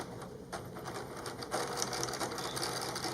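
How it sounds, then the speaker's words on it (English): A sewing machine stitches a fabric channel piece onto a pleated face mask, right sides together along the edge, running in a steady, fast mechanical whir that continues without a break and grows slightly louder toward the end. "And now we're going to go back to the sewing machine."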